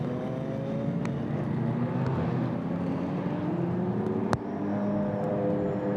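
GT4 race cars, among them a Porsche, pass the timing line at the Budapest circuit on a wet road, a steady loud engine drone with rising and falling harmonic tones and a sharp transient near the end.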